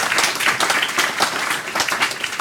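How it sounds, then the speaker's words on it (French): An audience at a corporate award event for a housing company in Picardy applauds the staff team, loud close clapping from a crowd in an uneven, lively rhythm with no talking. "je voudrais les applaudir avec vous"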